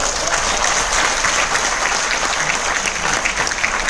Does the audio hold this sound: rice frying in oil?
no